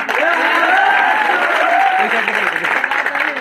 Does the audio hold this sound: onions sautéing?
no